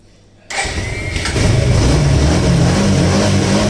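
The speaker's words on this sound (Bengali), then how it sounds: "বাইকটা স্টার্ট দিলাম, তখন দেখে অটোমেটিক একবারেই স্টার্ট হয়ে গেছে" After a quiet moment, a motorbike that had earlier refused to start catches abruptly on the first try and settles into a loud, close, steady idle that rises slightly partway through.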